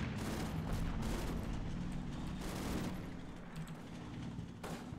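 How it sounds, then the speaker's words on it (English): Sustained volleys of rifle and machine-gun fire with heavy booms from a mounted infantry attack in Combat Mission: Final Blitzkrieg, loud overlapping bursts crackling continuously with sharper cracks punching through near the end. "Provide some covering fire."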